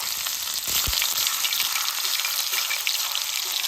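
Thick raw banana slices dropped into very hot oil, giving a loud, steady frying hiss with one soft plop near the start, constant throughout and without any voices.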